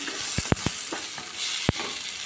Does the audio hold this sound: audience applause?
no